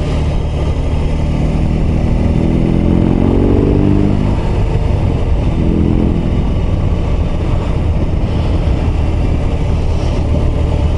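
A BMW R18 B bagger with its big flat-twin boxer engine pulls along on the road, its deep, steady engine note swelling and easing as the rider works the throttle, close and continuous throughout with no talk.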